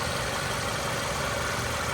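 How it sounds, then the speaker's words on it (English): A 2008 Toyota Camry engine idles with a smooth, even hum at a constant level, steady and unbroken throughout, no voices. "let's jump over and listen to this nice little sewing machine engine"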